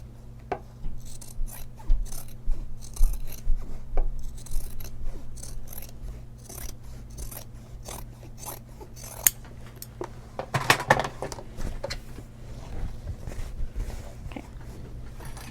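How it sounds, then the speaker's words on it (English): Scissors snip and rustle through fabric as a seam allowance is trimmed on a sewing project for a shoulder bag, with small close clicks and soft scraping over a low steady hum. "I'm going to trim this seam allowance."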